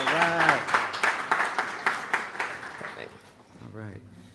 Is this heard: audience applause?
yes